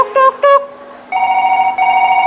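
A Nokia mobile phone rings with two short bright electronic chirps, then longer sustained tonal rings, loud and close with nothing else beneath.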